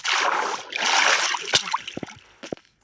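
A burst of splashing water in Minecraft, two surging sloshes followed by a few sharp clicks and drips that fade to silence.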